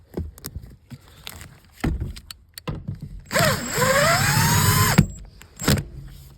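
A power tool zips a seat bolt back into a Honda Civic, sounding as a sustained whirring buzz of a few seconds with a rising and falling pitch, framed by short clanks and handling knocks.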